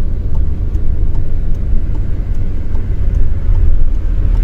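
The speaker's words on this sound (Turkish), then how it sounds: "Şimdi döneceğin için burada iyice yavaşlatıyorduk aracımızı." A car slowing down to turn during a driving lesson gives a steady, close interior rumble of engine and road noise that holds at an even level throughout, with no talking.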